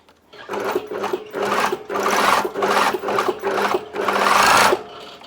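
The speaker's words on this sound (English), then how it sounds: "Now start sewing from the folded edge" Close, loud sewing machine stitching along a folded fabric edge in several runs of fast, rhythmic needle chatter, separated by short pauses.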